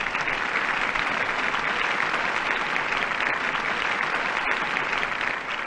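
Audience applause from a crowd, a dense steady wash of clapping hands that holds at an even level throughout with no voices over it.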